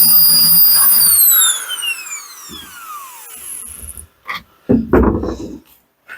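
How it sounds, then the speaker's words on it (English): A power drill boring bolt holes for a bucket seat install in a VW Beetle runs at a steady high whine, then winds down in falling pitch, followed by a few close clunks and handling knocks. "we got our 4 holes drilled"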